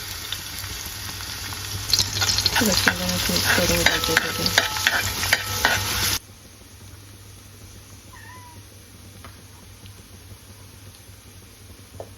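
Goat brain coated in masala frying in a pan, a loud dense sizzle with stirring scrapes for about six seconds, then dropping abruptly to a quiet low hiss with a few faint chirps.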